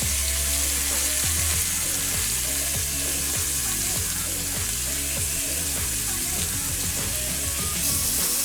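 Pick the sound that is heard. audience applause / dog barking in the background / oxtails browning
oxtails browning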